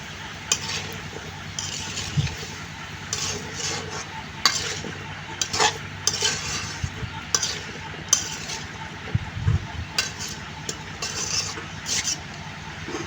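Papaya, jackfruit seeds and potatoes sizzle gently in a cooking pan while a utensil scrapes and clinks against it at irregular moments, close and quiet with faint background noise.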